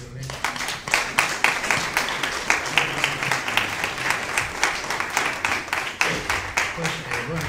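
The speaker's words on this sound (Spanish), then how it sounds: "Vamos a aplaudirle." An audience at a round-table tribute applauds after a reading, a dense, steady wash of clapping with a few sharper, rhythmic claps standing out near the front.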